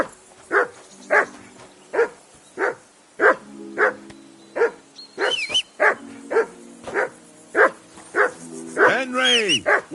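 A dog barks repeatedly in Kingdom Come: Deliverance 2, giving steady, evenly spaced loud barks close by, with occasional whines and a voice speaking over it.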